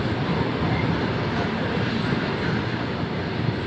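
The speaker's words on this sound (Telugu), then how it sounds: "ఇది రైలు బండి గిరక" A train passes close by with a heavy, steady rumble and broad roaring noise that holds at an even loudness for the whole stretch, with no clear talking.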